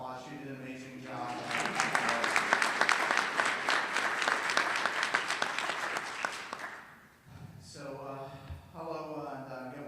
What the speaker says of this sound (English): if you could join me in giving me another round of applause